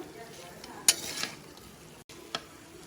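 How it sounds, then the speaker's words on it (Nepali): Local chicken meat fried with spices in a pan gives a soft, steady sizzle with a few sharp stirring scrapes and clinks of a utensil against the pan, close by, with no talking. "सबै कुरा मसलाहरू लगाएर चाहिँ यसरी मैले फ्राई गरिरहेको छु।"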